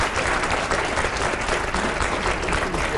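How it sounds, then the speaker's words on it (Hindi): A studio audience of young people applauds in a dense, sustained burst of clapping, loud and close, with no speech over it. "ये तालियां बजी थी यहाँ पर युवाओं की तरफ से"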